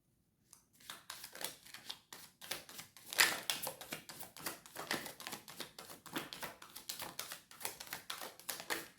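Tarot cards are shuffled in a long run of quick, crisp riffling taps, close and moderately loud, with no voices.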